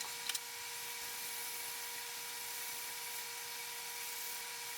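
A sharp turning tool takes a finishing pass on a wooden bowl spinning on a lathe, giving a steady, even hiss with a faint continuous hum throughout and a brief tap at the start.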